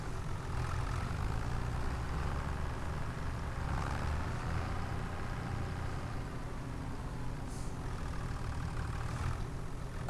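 Farm tractor engine running at low, steady revs while being driven to park, a continuous deep rumble that stays faint, with a few brief higher scrapes on top.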